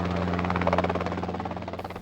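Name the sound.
Robinson R-22 and R-44 helicopters at Torrance Airport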